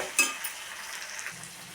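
Spices being stirred into an onion egg curry in a pan give a soft, faint scraping and sizzling, with one brief utensil clink near the start.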